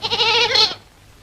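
A goat in a comedy film scene with cattle gives one loud, close bleat of under a second, wavering and nasal, then falls silent.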